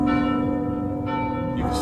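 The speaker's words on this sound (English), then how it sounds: "And the bells continue and begin to get louder." Church bells ring over a market, sustained metallic tones layered and resonant, with fresh strikes swelling the sound so it grows louder toward the end.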